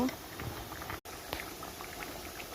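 Ginger paste and spices fry for mango pickle in a pan, giving a quiet, steady sizzle and bubbling patter with small pops, broken by a brief silent gap midway.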